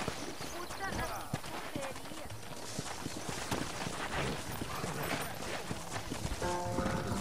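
Horse galloping in the video game Red Dead Redemption on PS3, rapid rhythmic hoofbeats running steadily throughout, mixed with game sound and a voice talking over it, ending with a snort or whinny.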